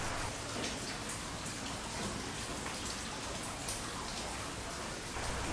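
Steady rain falls on a gorilla enclosure at a zoo, a dense, continuous hiss of drops that stays even throughout with no voices.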